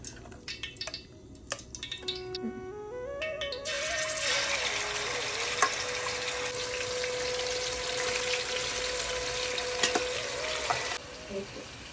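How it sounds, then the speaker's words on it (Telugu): Marinated chicken hits hot oil, and after a few knocks and clatters a loud, close, continuous sizzle takes over and holds steady, with occasional utensil taps and no speech. "మనం మ్యాగ్నేట్ చేసి పెట్టుకున్న చికెన్ని అందులో వేసుకుందాం."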